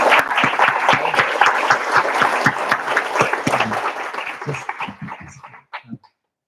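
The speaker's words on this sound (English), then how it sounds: "Can we give Noah some applause?" A school class of 2025 recognition ceremony audience applauds steadily and densely for a musician, the clapping tapering off and thinning out into a few last claps near the end.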